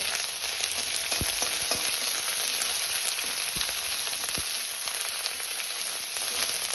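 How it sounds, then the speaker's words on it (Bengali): Ginger and cumin paste stir-fries in oil in a pan for a Bengali chalkumro and sonamoog dal dish, a steady dense sizzle with a few soft scraping clicks of stirring throughout, close and continuous, no voices. "এবার আদা আর জিরে বাটাটা নেড়ে একটু কষিয়ে নেব।"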